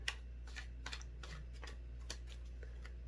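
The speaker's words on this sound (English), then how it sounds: "It's so hard shuffling these cards because they're so big." Large tarot cards being shuffled by hand, giving a run of soft, quiet riffling flicks and taps spread across a few seconds, close up with no talking.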